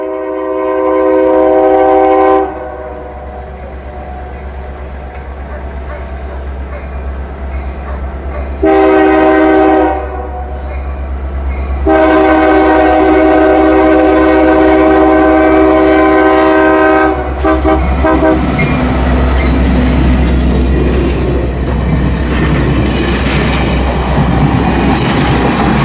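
LSRC 1776, a Lake State Railway locomotive, blasts its horn in long repeated calls at a rural crossing while pulling a Santa train. Heavy rumble and rolling wheel clatter build as it passes close by.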